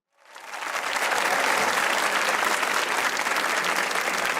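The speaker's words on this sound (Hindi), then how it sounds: "और अंकल आप भी ताली बजा रहे थे" A studio audience on a comedy talk show bursts into steady, dense applause that swells within half a second and holds loud and continuous to the end.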